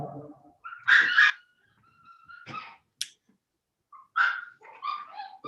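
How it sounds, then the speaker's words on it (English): Small dogs give high-pitched yips and short barks with whimpering in between, coming in scattered bursts with brief silences. "You hear the puppies in the background?"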